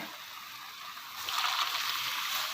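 Boiling water poured into a pot over poultry on an Egyptian home stove, a steady splashing pour that swells louder partway through and continues close and alone.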